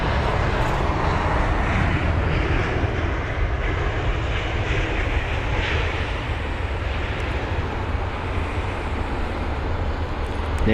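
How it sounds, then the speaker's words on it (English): An Airbus A319 arriving at London Heathrow, a broad, steady roar of jet engines that stays loud and constant as the aircraft passes at close range, with no voices. "There's the A319 aircraft. Fantastic arrival."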